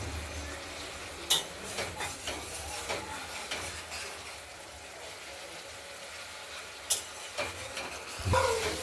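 Stone-ground spice paste for a pabda fish curry with potato and tomato cooks in oil, giving a quiet, low sizzle with a few sharp spatula scrapes and knocks against the pan.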